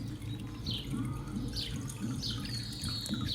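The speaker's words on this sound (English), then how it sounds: "And I let the water drain." Water drains from a papermaking screen holding lifted pulp, trickling and dripping steadily, a soft continuous patter with occasional brighter droplet splashes, quiet and close.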